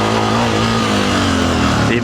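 A motorcycle engine runs close and loud with a smooth, steady drone and slight pitch shifts, a voice faintly audible alongside.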